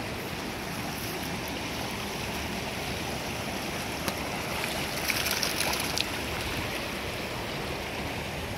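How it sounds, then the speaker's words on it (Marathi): A cool forest stream flows steadily nearby, a constant broadband rush of running water with a few faint higher splashes and trickles, no voices. "खूप सुंदर ओढा आहे। शीतळ पाणी येतं या ओढ्याला।"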